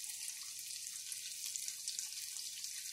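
Chicken curry cooking in a pot, a steady bright sizzle and crackle of frying that carries on unbroken at moderate level with no voices.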